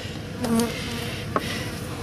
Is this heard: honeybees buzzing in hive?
yes